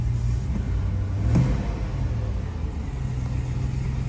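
A Chevy Tahoe engine idles with a steady low rumble and takes a brief blip of throttle that briefly swells the sound, then settles back to a constant drone. No voices.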